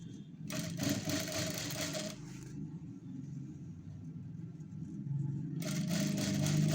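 A sewing machine stitching around a blouse neckline, running in two close bursts of rapid whirring stitches separated by a quieter pause with low background hum.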